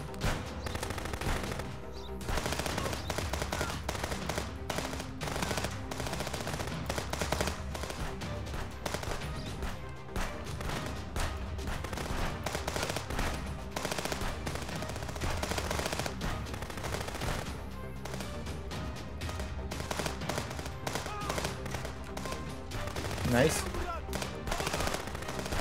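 Sustained gunfire in the video game Contraband Police, dense bursts of machine-gun fire and overlapping shots, loud and continuous, with occasional voices underneath.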